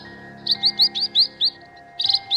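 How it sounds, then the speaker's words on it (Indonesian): A bird sings a series of bright, evenly spaced chirps, about seven in a row, then a quick trill after a short pause, clear and fairly close over a steady low background hum. "Burung sialan. Kau asik bernyanyi saat aku bersedih."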